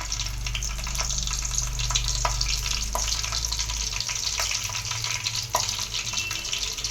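Dried red chillies crackling in hot oil, a steady bright sizzle with scattered sharp pops, close and continuous throughout.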